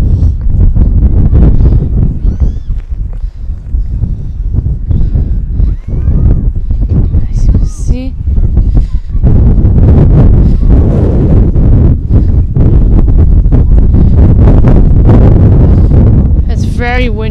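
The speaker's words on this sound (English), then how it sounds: "Very windy," Strong wind at a snowy sledding and tubing hill buffets the microphone in loud, continuous low rumbling gusts, with brief rustles and crackles.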